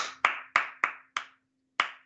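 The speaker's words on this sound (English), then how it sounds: "Clap it with me." Hand claps keeping a ti-ti-ti-ti-ta-ta ostinato in a music lesson: five sharp, close claps, the first four fairly even and a longer gap before the last, with no talking.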